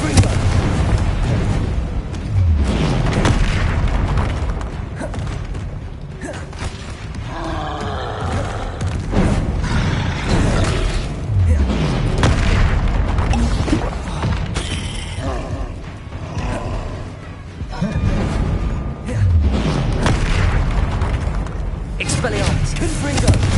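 Confringo blasting spell explosions in Hogwarts Legacy, repeated booming blasts and cracks in a busy, dense mix with spell-casting voices shouting throughout.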